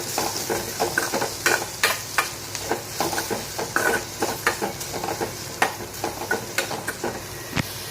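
Ivy gourd fry with chilli powder is stirred in a hot pan, a steady sizzle punctuated by repeated sharp scrapes and clacks of the spoon at an irregular, busy rhythm, close and fairly loud with no voices.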